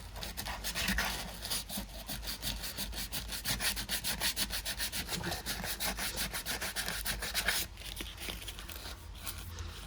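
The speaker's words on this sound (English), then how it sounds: "So we'll just get 180 on that. Sand it right down smooth." Rhythmic strokes of 180-grit sandpaper on a car body panel, a steady close rasping back-and-forth that runs loud and continuous throughout with no talking.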